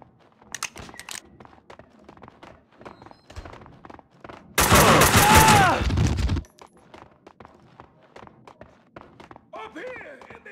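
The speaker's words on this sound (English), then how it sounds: "Heard the gunfire." A dense burst of gunfire from the video game Max Payne 2 erupts midway for about two seconds, loud and rapid, between stretches of spoken narration and scattered quieter clicks and thuds.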